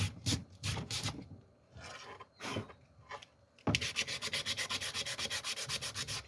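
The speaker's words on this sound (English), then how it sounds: "Of course, the sandpaper, a little bit of sandpaper I'm using," Wooden drawer being sanded by hand with sandpaper, with scattered irregular rubbing strokes at first, then a fast, steady run of rhythmic back-and-forth scrapes, close and fairly quiet.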